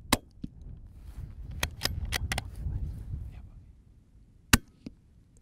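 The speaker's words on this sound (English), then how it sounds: "As we crest the ridge, another pair of pests presents itself to Edan and his rimfire." Suppressed rimfire rifle fired at rabbits on a Highland ridge: a few soft clicks and snaps, then one sharp, close crack near the end, with quiet outdoor background between.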